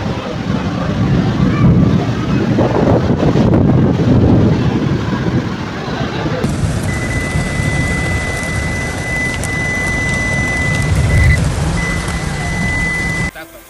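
Heavy rain pours during a thunderstorm in Mecca, Saudi Arabia: a dense, continuous downpour with wind buffeting the microphone, loud and steady throughout.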